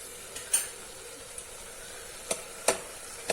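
Papaya halwa is stirred in a pan with a gentle background sizzle, broken by a few sharp spoon clinks and scrapes against the metal, close and fairly quiet, with no speech.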